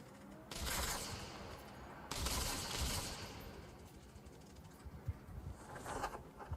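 Bursts of rapid automatic rifle fire from an AK-117 or XM4 in a mobile shooter game, heard in several dense volleys with short gaps, moderately loud against a busy in-game background.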